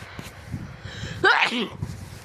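One sharp human sneeze bursts out at close range midway through, with a quick inhale before it and a breath of voiced sound trailing after.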